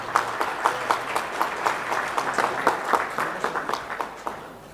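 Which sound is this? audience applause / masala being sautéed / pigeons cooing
audience applause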